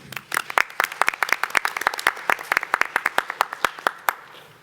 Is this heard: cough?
no